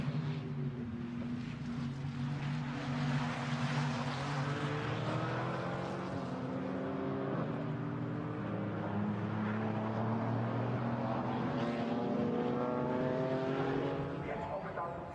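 GT4 race cars, a BMW and a McLaren, climb a hill toward a chicane at the Nürburgring, their engines droning with rising and shifting pitch, loud and steady throughout while a commentator talks over them.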